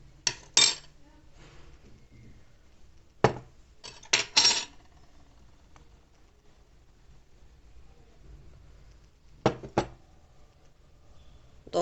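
Small polystyrene plastic pieces dropped into a container of water, a few bright clinking clatters in short clusters separated by quiet gaps, close and fairly faint.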